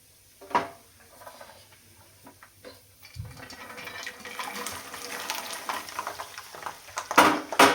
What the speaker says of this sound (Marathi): आणि आता टाकूया त्याच्यामध्ये लसूण.